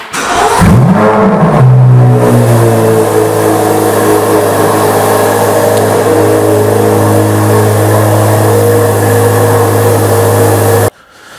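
A Chevrolet Corvette C8 Z06 engine revs hard at the start with a rising, sweeping roar, then settles into a loud, steady high idle drone that holds close and continuous until it cuts off abruptly near the end.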